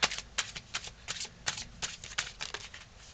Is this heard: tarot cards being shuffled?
yes